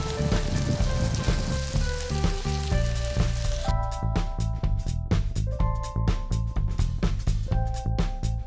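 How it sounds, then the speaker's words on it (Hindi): Bottle gourd yogurt curry cooks in gravy over a medium flame, a loud, steady, close sizzle and bubble that continues throughout with no voices. "ग्रेवी के साथ अच्छी तरह मिक्स करने के बाद हम इसको तकरीबन 5 मिनट्स के लिए मीडियम फ्लेम पे पकाएंगे"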